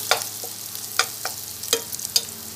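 Chicken arroz caldo ingredients sautéing in a pan, with a low steady sizzle broken by a few sharp scrapes and stirs of a utensil against the pan, close and moderately quiet with no talking.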